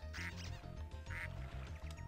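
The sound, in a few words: ducks quacking in the video game Spyro 2: Ripto's Rage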